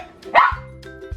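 A dog gives a single short, close bark followed by a softer yip or whine, heard alone at moderate loudness.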